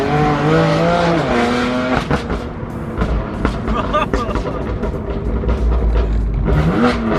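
A BMW M4 accelerates hard on a road test drive, engine revving and rising through gears, loud and close under excited talking voices.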